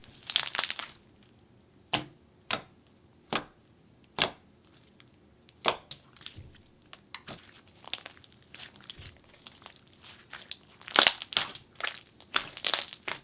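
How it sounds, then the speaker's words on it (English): Clear slime gets squeezed and pressed, producing sharp, close bubble pops and sticky clicks. They arrive as isolated snaps at first, then bunch into denser crackling bursts near the end. "The slime has amazing bubble pops, and it's also so clicky too."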